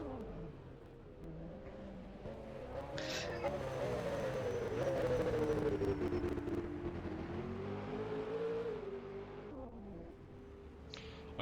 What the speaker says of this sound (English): I can hear that Mercedes doing donuts on the front straight.